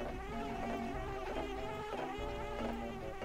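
Buzzing bees in Banjo-Kazooie, a steady, droning hum layered with game tones and running without a break at an even level.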